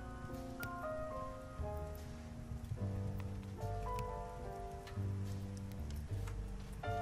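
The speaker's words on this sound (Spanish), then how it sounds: "Parece que la lluvia no se detendrá." Rain in an animated Pokémon series patters steadily in the background beneath soft, sustained music tones, with scattered drops ticking through.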